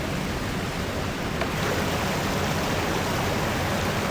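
A mountain stream, the last water source before a big climb on a snowy, rainy winter camping trip, rushes in a steady, dense wash of water that stays loud and unbroken throughout.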